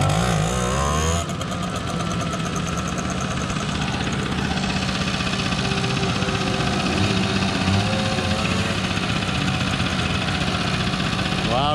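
A motorcycle engine idles steadily at close range, a continuous throbbing rumble with faint voices in the background.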